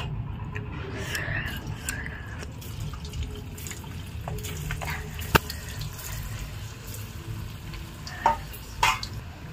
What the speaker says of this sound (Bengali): এইটা দেখো আর একটু হালকা ভাবে ভেজে নিলাম